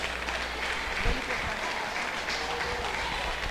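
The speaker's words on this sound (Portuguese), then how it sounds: "Vamos receber o bispo Roberto com as palmas para o Rei Jesus?" Church congregation applauding to welcome a bishop at a worship service, a steady round of clapping with voices mixed in throughout.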